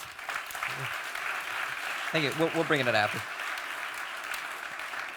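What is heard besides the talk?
audience applause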